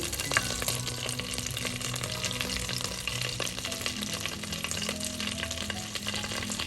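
Whole cinnamon, cloves, cardamom and bay leaf fry in hot oil for a creamy Afghani chicken gravy, giving a steady, dense sizzle and crackle with occasional stirring scrapes, close and continuous throughout.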